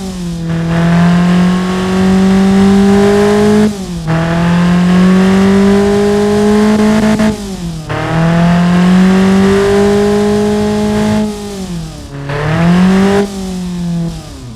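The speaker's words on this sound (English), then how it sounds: "It's a little bit louder at idle. As you can see, we are hearing induction noise." Simulated inline engine in the Automation game, a loud steady drone with strong induction noise, revving up in several long sweeps with short drops between each rise, no talk over it.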